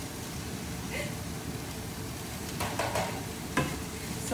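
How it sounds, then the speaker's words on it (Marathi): Chopped ridge gourd for a Mangalore-style dish cooks in a pan with a steady, close hiss of sizzling, broken by a couple of brief clinks near the end. "आता आपण ह्याच्यात टाकूया चिरलेली दोडके"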